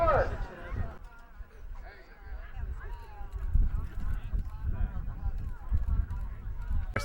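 Horses galloping in a point-to-point race at Mr. Stewart's Cheshire Foxhounds, including a loose horse, their hoofbeats rumbling low beneath a race caller's continuous commentary.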